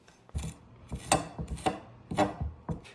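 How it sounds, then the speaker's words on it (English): A sharp knife chops fresh dill on a board in a series of crisp, close taps, spaced unevenly with brief gaps between strokes. "we need to chop up the dill"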